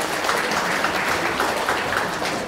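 Brief, steady clapping from an audience closing a health talk show held by a district health office in Brebes, even and moderately loud with no talk.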